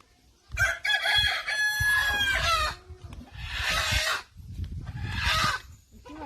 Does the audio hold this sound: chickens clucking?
yes